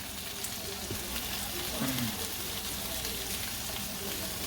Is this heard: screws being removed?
no